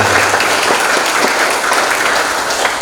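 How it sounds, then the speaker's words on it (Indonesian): Sustained applause from an audience at a network-marketing leadership training session in Bekasi, a dense steady wash of many hands clapping, loud and close, with no talking. "Tepuk tangan untuk kita semuanya."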